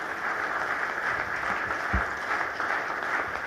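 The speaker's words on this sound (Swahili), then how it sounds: "Makofi mengi sana." Audience applause at a hotel launch ceremony in Tanzania attended by the President, a steady wash of clapping from a crowd throughout.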